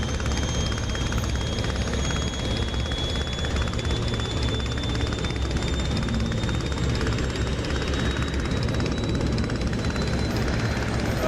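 Rotary engine drone of a WWI Sopwith Camel biplane in flight in the DCS combat flight simulator, a loud, steady buzzing hum with a faint high whine, continuous and unbroken throughout.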